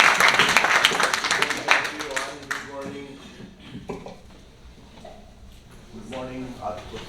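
An audience applauds at a lecture on massacres of Bangladeshi Hindus, with dense clapping loud at the start that thins and fades away, followed by a speaker beginning to talk.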